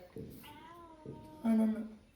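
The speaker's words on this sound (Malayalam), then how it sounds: "ഇതെന്താ തല രണ്ട് ചുട്ടിയുള്ള പൂച്ചയാണോ ഇത്" A cat meows a few times close by, short tonal cries with one louder, sharper call near the end, with some voices in the background.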